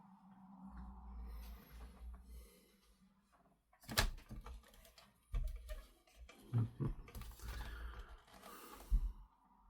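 Screws being driven into the dome of a Dalek model kit, heard as scattered clicks, scrapes and handling knocks, close and fairly quiet, after a low hum at the start.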